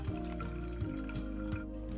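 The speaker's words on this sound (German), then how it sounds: "Fast unmittelbar danach fängt es in unserer Wasserflasche an zu blubbern" Water bubbles inside a bottle as air warmed by hot water expands and pushes through it, giving a few soft gurgling pulses over a low steady hum, close by with no talk.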